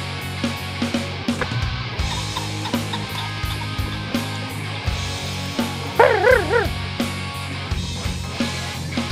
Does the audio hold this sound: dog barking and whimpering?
yes